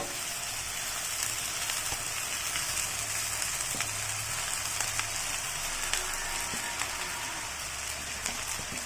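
Cooked rice is tipped into a hot frying pan with shrimp for mixed fried rice, and a steady, close, rain-like sizzling hiss with faint ticks carries on throughout.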